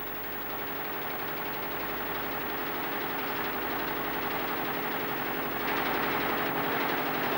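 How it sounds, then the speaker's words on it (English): A concrete paving machine forms transverse joints in fresh pavement, a continuous close mechanical engine drone with a fast knocking pulse and steady vibration that swells slightly toward the end. "The transverse joints are formed by a separate machine above the crack inducer."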